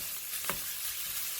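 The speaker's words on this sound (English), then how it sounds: "So now I'm going to add my chorizo" Chorizo sausage dropped into a pan of sautéing potatoes, giving a steady soft hiss of frying with a brief stirring scrape partway through, no voices.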